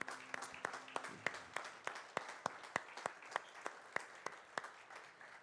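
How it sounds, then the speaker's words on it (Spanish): Rhythmic hand clapping from a church congregation, sharp regular claps in an even beat over a faint background wash, fairly quiet and somewhat distant. "Den un fuerte aplauso al Señor."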